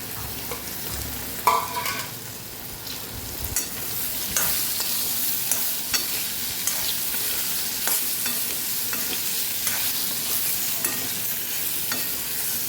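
Potatoes frying in a pan with mustard seeds, asafoetida and turmeric for a Kathiyawadi capsicum-potato sambharo, a constant close sizzle broken by repeated spoon scrapes and stirs.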